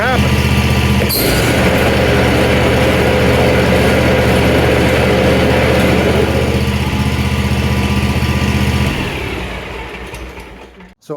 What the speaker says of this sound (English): we're gonna go ahead and start the mower